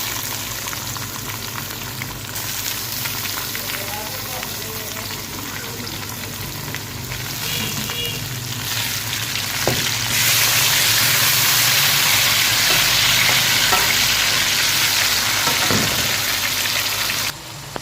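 Tomatoes fry in masala for Lahori chana, a dense, loud sizzle and crackle close by that swells partway through, with occasional knocks of a spoon against the pan and no talk.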